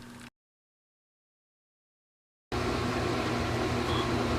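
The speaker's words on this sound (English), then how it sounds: "here's my washing machine in spin cycle" A Maytag washing machine, not sitting level, whirs in its spin cycle with a steady dense roar that starts abruptly after a brief gap of silence.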